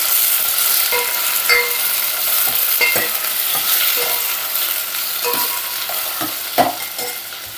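Tomatoes and other tomato rasam ingredients stirred in a pan, with a steady sizzling hiss under repeated sharp scrapes and clacks of the spoon against the pan, close and fairly loud, with no talk.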